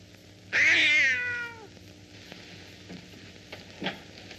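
A cat gives a single loud, drawn-out meow, about a second long, close by in a quiet room, followed by faint rustles and small knocks.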